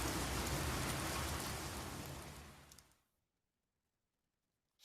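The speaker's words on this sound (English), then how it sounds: "It's starting to rain." Steady rain falls in a dense, even hiss for about three seconds, then fades out to near silence.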